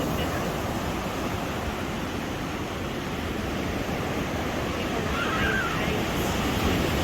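Continuous roar of ocean surf at a San Diego beach, a dense steady wash of breaking waves with some wind rumble, loud and close, no distinct voices.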